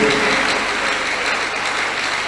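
A church congregation claps together during a worship service, producing a dense, even roar of many hands at close range that holds steady without pause.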